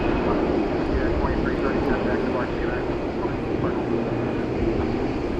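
Airliners at DFW airport at night, with a Boeing 747 close by, give off a continuous low engine rumble and whine that fills the clip at steady strength while voices talk faintly underneath.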